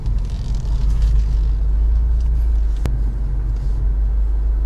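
A Subaru WRX STi engine drives a 0-60 mph acceleration run, heard from inside the car as a loud, deep, continuous rumble with a brief sharp click partway through.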